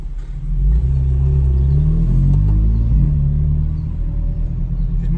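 Engine of a BMW M3 convertible, a loud, steady low rumble that swells as the revs rise and hold, close by, with no talk over it.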